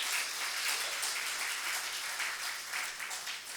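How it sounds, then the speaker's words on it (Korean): Congregation applauding during an Easter Sunday church service, a steady wash of clapping from many hands that holds evenly throughout at moderate, somewhat distant level, with no voices on top. "우리 박수 한번"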